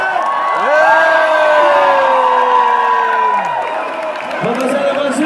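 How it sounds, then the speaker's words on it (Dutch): A large crowd of Zwolle's new students and townspeople cheers, whoops and applauds loudly, with an amplified voice ringing over the noise. "een applaus voor jezelf, maar ook vooral voor de Zwollenaren"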